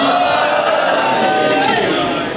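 An audience at a Muharram religious gathering raises a loud, dense crowd roar of chanted slogans, continuous and close for a couple of seconds.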